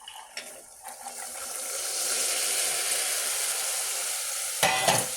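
A cup of chickpeas poured into hot oil with cooked spice powders for a curry, starting a loud, continuous sizzle with scraping stirs and a clatter near the start and again near the end.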